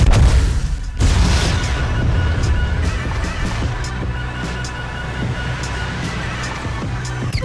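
A guided rocket from a video game launches with a loud booming blast, then a sustained deep rumbling roar that carries on at steady volume.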